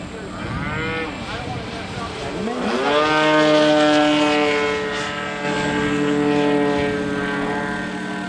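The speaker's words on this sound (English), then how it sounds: "there's a 3D plane coming around, and another aerobatic plane" An aerobatic 3D model plane's engine whines overhead, its pitch sweeping up and down as it loops and turns, loud and buzzing throughout.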